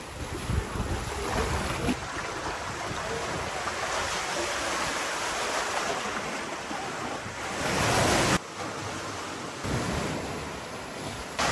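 Ocean waves washing onto a beach in a cove at El Nido, a continuous loud rushing surf heavily mixed with wind buffeting the microphone, no voices.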